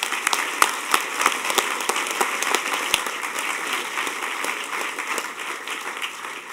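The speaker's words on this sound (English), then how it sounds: "And round of applause to all you guys." Audience applause at a hacker conference's closing ceremony: steady, dense clapping from a crowd that holds at an even level throughout, with a few sharper individual claps near the start.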